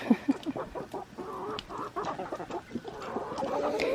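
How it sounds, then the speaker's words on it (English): Chickens cluck and a rooster calls on a homestead among a flock of hens and black Australorp chicks, with short close clucks at the start followed by a busy, overlapping murmur of fowl sounds. "See, there's a rooster."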